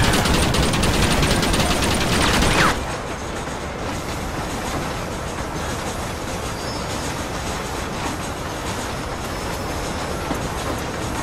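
A train in Red Dead Redemption rolls along the rails with a loud, dense clatter and wheel noise. After a couple of seconds it drops to a softer, steady rumble of wheels and cars that runs without a break.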